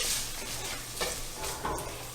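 Butter melts in a pan with barely cooked sausage. The close, soft sizzle and light stirring scrapes hold steady through the short stretch.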